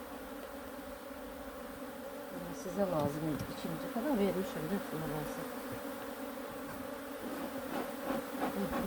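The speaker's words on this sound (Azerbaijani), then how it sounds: "Doludur maşallah, arı da çoxdur burada." A crowded garden beehive hums with many honey bees, the buzzing thick and close throughout while someone talks over it for several seconds.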